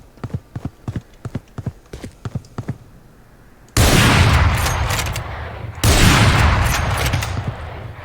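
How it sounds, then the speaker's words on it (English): Sniper rifle shots in the Valorant video game, two heavy blasts spaced about two seconds apart, each with a long rolling tail, following a run of quick footstep-like taps. "this is a slower fire rate gun, this sniper rifle"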